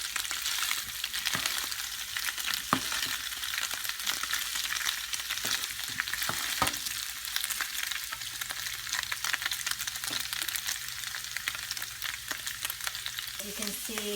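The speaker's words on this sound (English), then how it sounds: "our carne de puerco has been cooking for about an hour" Pork (carne de puerco) frying in a pan for about an hour until golden brown, giving a steady, dense sizzle with occasional pops and stirring scrapes, close and continuous throughout.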